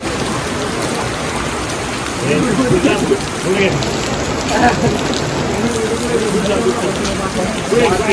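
Steady rain pours down on a softball ground, loud and close, with voices talking intermittently over the downpour.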